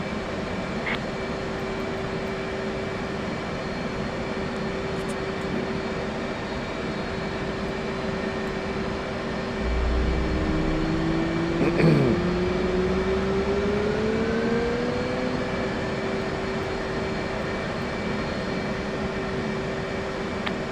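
An F/A-18C jet engine idling in the DCS World flight simulator, a steady whining hum with tonal whistles, plus a brief low rumble and pitch sweep midway.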